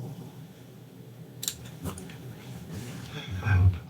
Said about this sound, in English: I'm just going to snip them,